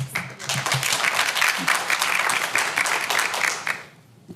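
An audience at a city planning commission meeting applauds steadily for about four seconds, a dense patter of clapping that fades out at the end.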